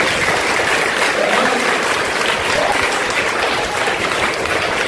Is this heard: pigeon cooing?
no